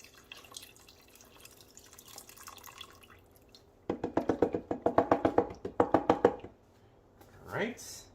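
Chicken broth is poured into butternut squash soup in a pot, giving a run of rapid glugging splashes for a couple of seconds, close and clear, preceded by quiet kitchen sounds.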